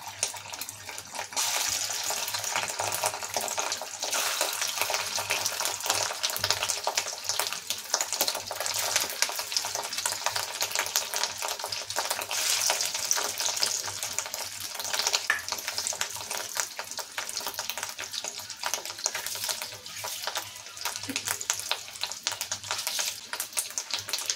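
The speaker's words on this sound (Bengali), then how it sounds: "কড়াই তেতে গেছে, এবার মাছের বড়াগুলো দিয়ে দিচ্ছি।" Fish roe fritters fry in hot oil in a wok, giving a steady, close, bubbling hiss with fine crackles that runs on evenly without pause and with no voices.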